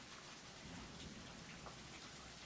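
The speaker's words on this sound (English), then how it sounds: "You can hear that thunder." Steady rain falls outdoors in cold weather, a dense even hiss of drops on surfaces with a low rumble of thunder rolling underneath, continuous throughout with no voices.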